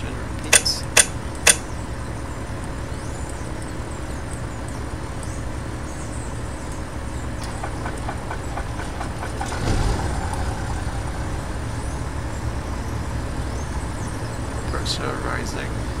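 Engine number two of a Duchess 76 twin-engine plane starting up in a flight simulator game, a steady droning hum with a few sharp clicks at the start and a brief swell midway, heard alone.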